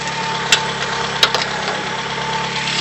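A 1989 Ford Festiva's small engine runs steadily throughout with a continuous low mechanical hum and faint vibration, broken by a few brief clicks or knocks near the start.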